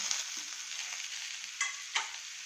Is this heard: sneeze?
no